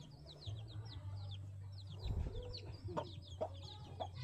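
Chickens cluck and chirp in a small coop full of chicks, the birds' repeated calls scattered over a low steady hum, faint and nearby, with a few louder clucks near the end.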